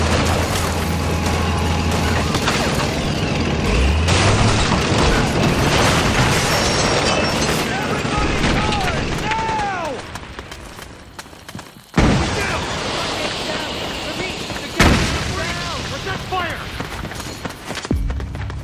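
Gunfire and explosions from Metal Gear Solid 4: Guns of the Patriots, a dense, loud barrage of shots, booms and mechanical clatter running nearly throughout, with sharp blasts standing out near the end.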